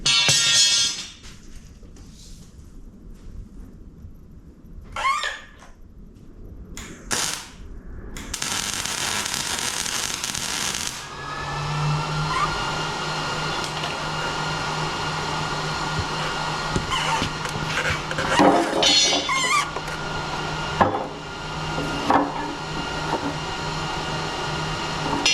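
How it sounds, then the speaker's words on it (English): An electric welder tacks steel pig pen panels together, starting with a few short crackling bursts and then settling into a long, steady buzzing hiss with faint clanks underneath. "I'm going to turn the welder on here."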